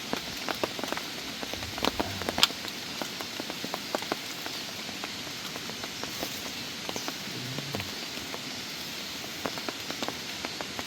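Rain falls on a mountain forest campsite at the end of the rainy season, a soft, steady patter with scattered sharper drops striking nearby surfaces.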